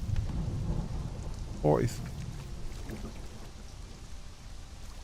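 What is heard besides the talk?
thunder rumble in Conan Exiles video game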